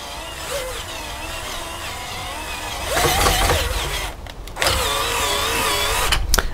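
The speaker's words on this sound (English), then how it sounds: "I took my existing cordless drill and I got a socket attachment on it." A cordless drill fitted with a socket attachment drives a trailer jack, its motor whirring in two sustained bursts with a short pause between, loud and close, with no talking.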